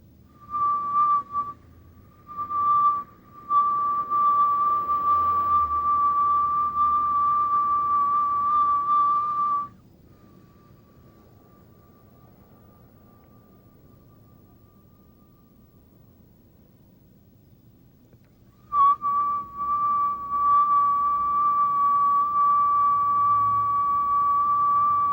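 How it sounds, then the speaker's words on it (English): Breath drawn in through pursed lips during a slow deep-breathing exercise, making a thin, steady whistle that holds for several seconds, stops for a quiet pause, then returns. "Now we'll inhale through the mouth in a whistle and exhale through the nose, slow, deep breathing."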